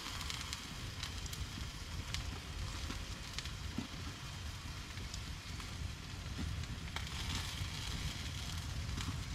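Squid frying in an old pot over an outdoor fire, a steady close crackle and hiss running without pause, with faint wind noise in the background.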